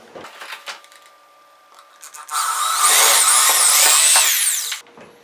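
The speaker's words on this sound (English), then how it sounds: "So we're going to go ahead and drill our hole now." Soft handling taps give way to a loud power drill grinding steadily through a ceiling for a couple of seconds, boring a hole for a ceiling fan install, before it cuts off.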